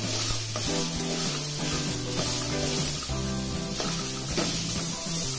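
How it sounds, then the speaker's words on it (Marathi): Mixed vegetables for Veg Kolhapuri fry in oil with a steady, hissing sizzle, heard under continuous background music. "2 मिनिटं परतून घ्यायचं। तेलामध्ये फ्राय केल्यामुळे याची चव वाढते"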